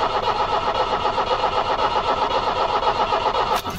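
Starter motor cranking the 1990 Iveco Daily 35-8 diesel engine, an old van struggling to fire, churning steadily and loudly for several seconds without catching.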